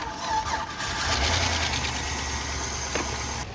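An old vehicle's engine idles steadily while charging its battery, a low, continuous, slightly uneven rumble close by, with no talk.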